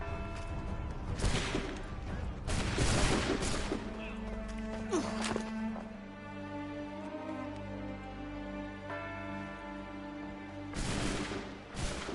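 Soldiers fire a musket volley in the video game Assassin's Creed III, with several sharp cracking blasts early on, then a lingering musical drone and a final boom near the end.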